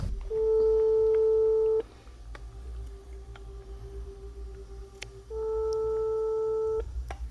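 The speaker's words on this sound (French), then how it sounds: "on va appeler le numéro qu'il y a dans la maison pour demander de l'eau" Ringback tone of a French phone call to a house number in the mountains, two long steady electronic tone bursts separated by a pause, loud and close, with faint background hiss and no speech.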